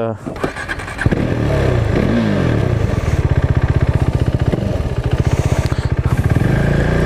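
A KTM motorcycle with an Akrapovič exhaust starts up and settles into a loud, throbbing idle with rapid, regular pulses, then gets blipped and revved up close.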